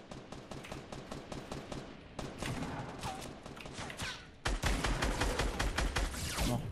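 Rapid gunfire crackles through the Fortnite Battle Royale video game as dense bursts of automatic shots rattle nearly nonstop. The volume steps up sharply partway through, and the fire continues loud and close to the end.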